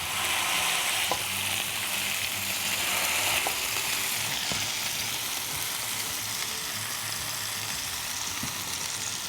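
Smashburger patties sizzle and fry steadily on a Ninja Foodi Pro XL griddle, a dense continuous crackle close up with a few scraping taps from a spatula, no voices.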